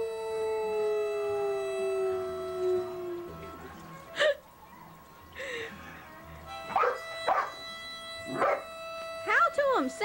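A pet dog howls, giving a long, drawn-out wavering cry at the start, followed by shorter yelps and vocal bursts while people talk and encourage it nearby.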